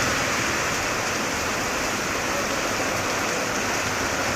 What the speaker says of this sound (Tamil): தண்ணி ஆறு மாதிரி ஓடுது பாருங்கள்